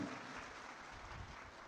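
A large crowd claps and cheers at a political rally in Begusarai, a dense, steady burst of applause that stays loud for its whole short span with no voices heard over it.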